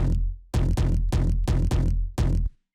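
A Serum preset Dawn bass without effects plays a run of about eight full, sustained low notes in a steady rhythm, each starting with a sharp attack before cutting off.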